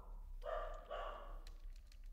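Street dogs barking outdoors: two short barks in quick succession, fairly faint and distant, then quiet background.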